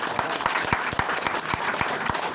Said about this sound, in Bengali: ওর জন্য একটু জোরে হাততালি দেবেন